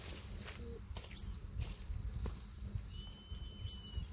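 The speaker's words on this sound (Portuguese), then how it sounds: "passarinho está cantando, tá escutando?" A small bird sings at night on a riverbank, giving two brief, faint chirps a couple of seconds apart over a low, steady outdoor background.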